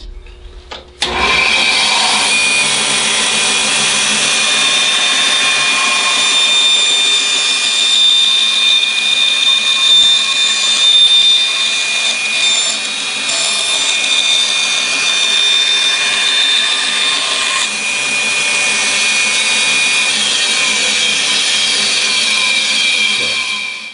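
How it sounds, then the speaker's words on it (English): A bandsaw cuts through a wooden bent-lamination picture frame, its steady high whine running loud and continuous for the whole stretch with slight dips as the blade works the glued wood. "But bandsaw is just quick and easy."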